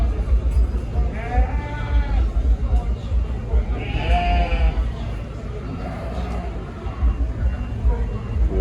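Sheep at a Jamaican agricultural show bleat several times, wavering calls rising over crowd murmur and background chatter, with people talking nearby.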